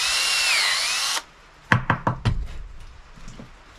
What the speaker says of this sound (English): then we'll go down and drill press it out